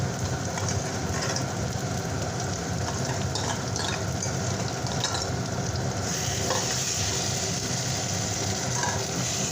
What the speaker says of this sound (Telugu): ఫ్రై అవుతున్న ఆనియన్స్లో ఫ్రై చేసుకున్న ఆనియన్స్, టమాటాలు మిక్సీ చేసింది గ్రేవీ వేసేస్తున్నాం